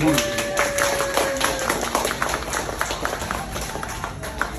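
An audience at a first hair cut ceremony at a hotel in New Jersey claps in a dense, uneven patter. It runs steadily throughout while a voice speaks and a brief tone sounds over it.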